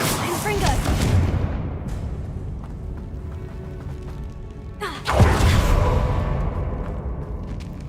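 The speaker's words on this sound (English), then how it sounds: "Confringo." A Confringo fire spell explodes in Hogwarts Legacy, a sudden loud burst landing midway over a dense, busy backdrop of game noise and rumble, with a second sharp swish earlier.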